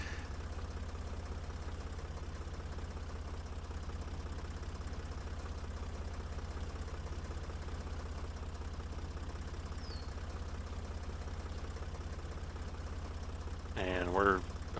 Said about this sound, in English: it's slow going because, again, this is the smallest tractor in the game